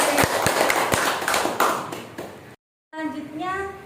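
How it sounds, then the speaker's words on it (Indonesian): Audience clapping for a presenter at a school teachers' session, a few distinct close hand claps and taps that thin out, followed after a short gap by talking. "Tepuk tangan sekali lagi untuk Bu Eri."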